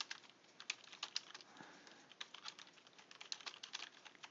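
Rapid, quiet keystrokes patter on a computer keyboard in an uneven rhythm, with brief pauses between bursts of typing.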